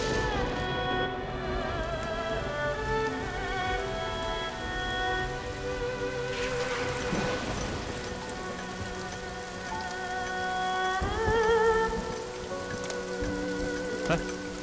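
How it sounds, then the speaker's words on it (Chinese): Steady rain falls on surfaces throughout, a continuous close patter of drops with soft ambient tones beneath and no voices. "马上就要下雨了"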